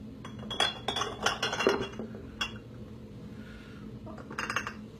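Glass apothecary bottles, including an Avon one, clink and knock together as they are picked up and set down, in close, sharp bursts with quiet pauses between.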